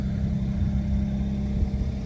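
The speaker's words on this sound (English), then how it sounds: "Stock exhaust." A BMW E92 335i on its stock exhaust idles and revs, a steady, fairly loud low engine drone heard close up with no talk.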